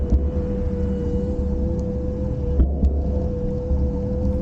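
A Hiboy S2R electric scooter hums steadily while being ridden, with a thin constant motor whine over low rumbling road and wind noise and a couple of small bumps.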